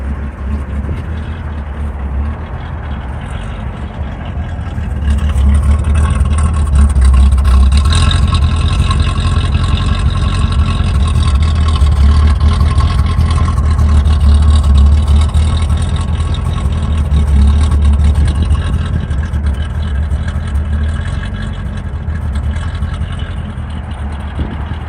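A Pagoda Green 1964½ Ford Mustang convertible with a D-code 289 Hi-Po engine drives along, its steady low engine drone building after a few seconds and holding, with no talk.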